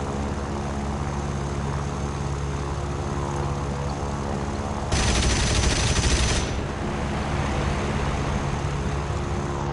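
In a War Thunder tank video game, steady engine rumble with a sudden burst of rapid gunfire lasting about a second and a half, then the droning continues; no talking.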